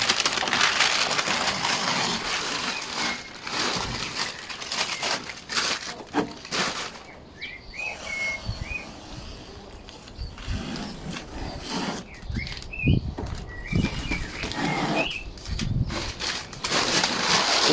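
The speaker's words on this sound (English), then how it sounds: "Take the masking off very carefully so none of the paper touches the fresh paint" Masking paper is peeled and crumpled off a freshly painted Nissan Elgrand, loud close rustling and tearing in uneven bursts with brief squeaky pulls, no voices.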